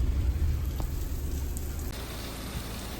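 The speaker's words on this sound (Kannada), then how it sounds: "ರೈಟಲ್ಲಿ ನೀರು ಸಣ್ಣದಾಗಿ ಬೀಳ್ತಾ ಇದೆಯಲ್ಲ, ಅದೇ ಫಾಲ್ಸು." A small waterfall at Erachalpura, carrying only a thin flow of water, gives a steady, continuous rushing hiss that stays fairly even throughout, with no voices.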